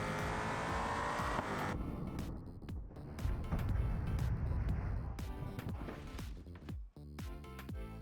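SUV in BeamNG Drive revving hard, its exhaust roaring and rising then dropping between gear changes, with sharp pops and a brief tire screech, moderately loud and mostly alone.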